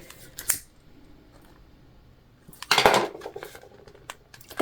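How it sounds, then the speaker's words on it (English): Scissors snipping thread on a jelly vinyl sewing project, with a single crisp snip near the start, then a quick cluster of close metallic cuts and clicks after a quiet pause. "Cutting our thread that we didn't cut on the other side."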